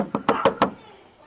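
Knuckles rapping on a door: four sharp, close knocks in quick succession, then a short silence with no voices.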